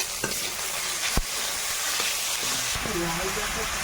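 Garlic-ginger paste fries with chopped onion as tomato and green chilli are added, a loud close sizzle with a sharp clack of a utensil and faint voices in the background.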